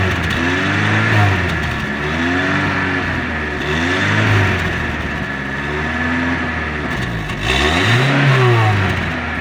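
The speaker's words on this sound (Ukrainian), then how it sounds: "А ну газани." A Daewoo Lanos 1.5 (2008) engine revs repeatedly, rising and falling in several strong close-up bursts over a steady idle, with no talk in between.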